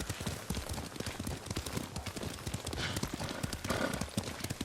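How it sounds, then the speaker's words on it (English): Video game horse hooves clip-clopping at a steady, quick pace while being ridden, close and continuous for several seconds over a soft background wash. "Lord Sakai taught me to ride a horse"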